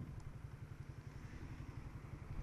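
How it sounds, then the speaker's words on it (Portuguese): Motorcycle engine idling at the roadside in Santo André, a low steady rapid putter heard fairly faint beneath wind-like background noise, with no talking. "Vou até encostar a moto aqui"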